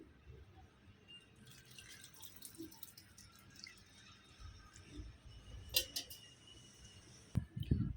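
Water is poured onto small potted jasmine plants, giving a faint, quiet trickle with scattered drips and a few louder splashes near the end.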